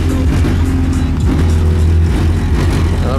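Six 8-inch subwoofers in a car treated with sound deadener pound out loud, continuous deep bass, with rattling from the fuel tank underneath buzzing along throughout.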